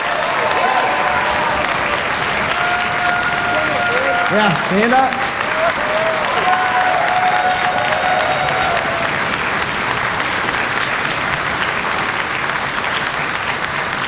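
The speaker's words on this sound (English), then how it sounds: "Give him another applause." Sustained audience applause fills a high school spring orchestra concert hall, steady and loud throughout, with a voice briefly calling out over the clapping.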